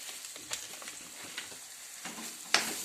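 Spice paste with red chilli powder and masala sautéed in a pan for a sprouted moth bean curry, a soft sizzle broken by scattered spoon scrapes and a sharper clatter near the end.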